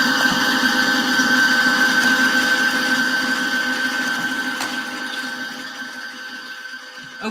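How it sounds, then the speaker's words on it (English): A sewing machine winds a bobbin with a steady high whirring whine, close and constant, easing off slightly toward the end with a brief click. "I'm winding a bobbin, which I should have done prior to starting."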